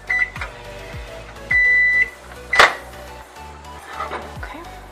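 A microwave oven being set to melt butter for quick rolls: keypad beeps and a longer tone, a clunk of the door or dish, then a low steady hum, close and clear with no talk.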